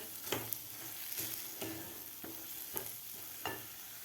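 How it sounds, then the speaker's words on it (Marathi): Spice masala sizzles softly in a pan while a spoon stirs, scraping the pan in a slow, regular rhythm about every half second. "व्यवस्थित आपल्याला मसाला परतून घ्यायचा एक मिनिटभर"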